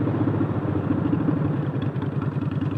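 A Honda Shadow Phantom motorcycle with straight pipes rumbles steadily and loudly at close range, its engine pulsing in a throbbing, slightly uneven rhythm while the bike rides over a rough road, with no talk.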